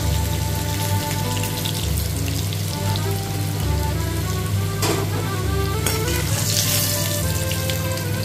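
Potatoes fry loudly in hot oil, a dense continuous sizzle with a low steady hum beneath and a few brief clatters partway through.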